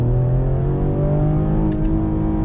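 A 2021 Ford Explorer ST engine revs hard in second gear toward its redline, a loud, steady, close-up engine drone with rising tonal whine from inside the cabin.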